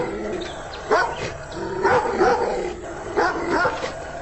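A dog barks in short bursts, several sharp barks and yips spaced across a few seconds, fairly close and mid-loud, with some whimpering between.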